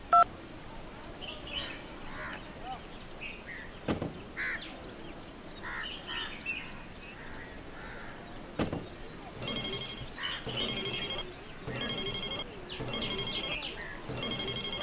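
A telephone ringtone repeats in regular bursts in the latter half, preceded by quieter tones and clicks, with faint birds and crows calling in the background and no talking.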